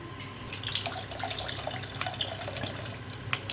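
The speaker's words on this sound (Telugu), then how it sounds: "ఇప్పుడు ఇందులోకి చింతపండు రసం వేసుకుందాం" Tamarind juice poured into a frying egg masala paste, a soft continuous watery pour and splash with faint bubbling, quiet and close.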